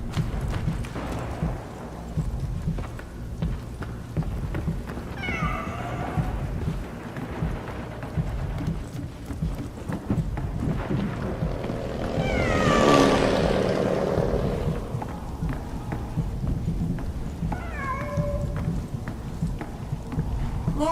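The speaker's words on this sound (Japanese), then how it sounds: "Deine Katze ist irgendwo nach Hongkong." A frightened cat meows in a thunderstorm in the video game Memories Retold, giving three drawn-out cries spaced several seconds apart over steady heavy rain and low rumbling.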